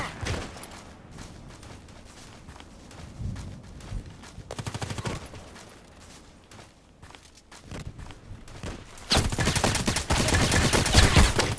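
Gunshots from the online shooter Contract Wars arrive as scattered short bursts at moderate distance amid game ambience and movement. Heavier sustained automatic fire closes the sequence.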